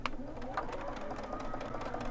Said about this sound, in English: just sewing that 1/4 inch seam under my foot